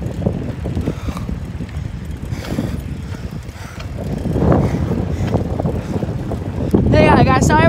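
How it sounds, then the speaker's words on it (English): Wind buffets an outdoor microphone in loud, uneven gusts that roar and rumble, growing stronger toward the end, with a person talking under the noise. "Sorry about the wind."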